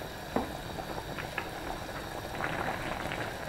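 Chicken simmers in its broth over medium-low heat, making a soft, steady bubbling with faint pops and an occasional clink of the pot.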